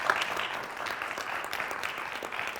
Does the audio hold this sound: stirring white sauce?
no